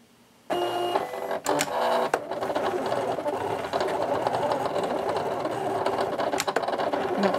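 A Silhouette Cameo electronic cutting machine starts up and runs continuously with its lid open, cutting paper, whirring and clattering as its blade carriage moves back and forth, close and fairly loud.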